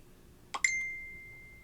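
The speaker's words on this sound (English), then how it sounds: "my phone went off and it distracted me" A phone notification sounds once, a soft tap followed by a bright chime that rings on and slowly decays in a quiet room.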